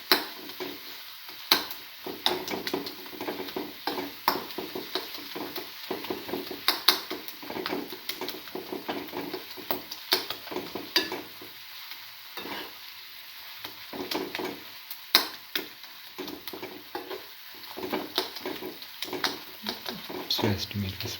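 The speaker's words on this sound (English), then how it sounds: "Thoroughly saute and mix." Tomato paste being sautéed and mixed in a pan, giving a soft continuous sizzle broken by irregular scraping and clinking of a utensil against the pan, close and moderate in level, with a person talking intermittently throughout.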